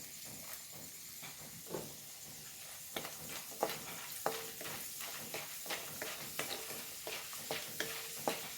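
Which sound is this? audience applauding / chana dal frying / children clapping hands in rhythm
chana dal frying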